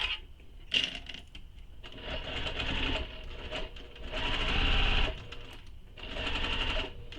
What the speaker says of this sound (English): So sew this with the seam allowance given in the pattern.